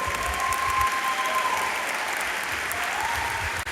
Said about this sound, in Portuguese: Você pode aplaudir mais alto aí, por gentileza?